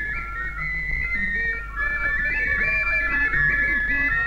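Several people whistle together in a lively folk dance setting, with overlapping sustained and warbling whistled tones over a low steady rhythmic backing, loud and continuous.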